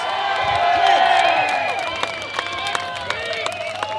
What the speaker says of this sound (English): Give Jacquie Dundee a big round of applause, guys.